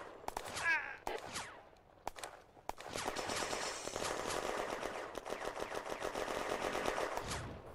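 Mortar and machine gun fire in the WWII strategy game Firefight, during a June 1940 battle for Villers-Bocage: scattered distant shots give way to sustained rapid bursts of gunfire with echoing reports, continuous and moderately loud.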